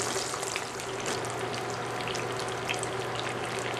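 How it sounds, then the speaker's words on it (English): Pastelillos (empanadillas) fry in oil in a skillet, giving a steady close crackling sizzle with a faint underlying hum, continuous and without any talk. "And we continue frying them until they are golden brown."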